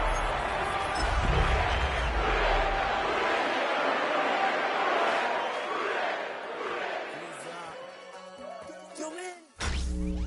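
A big stadium crowd roars and cheers steadily in an EA Sports football video game for a Steelers versus Bengals matchup, loud and sustained before thinning out near the end under a sharp closing burst.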